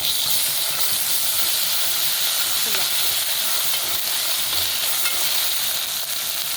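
Sliced onions with ginger garlic paste fry in a pan as a khichdi is cooked, giving a steady, loud sizzle and hiss that runs unbroken, with faint scrapes of stirring underneath.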